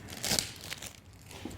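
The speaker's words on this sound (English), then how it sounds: "You can just pull your plastic bag out." A plastic bag crinkles and rustles faintly as it is pulled free during a mirror repair on a 2011-13 Ford Explorer, with a brief sharp crackle followed by softer rustling.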